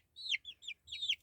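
Wyandotte hens give a short series of bright, chirpy clucks, four quick calls close by in a quiet setting.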